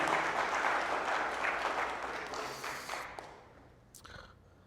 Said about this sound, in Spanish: ¿Qué le parece si le da un aplauso fuerte a Jesús?